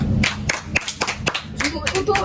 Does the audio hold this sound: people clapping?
yes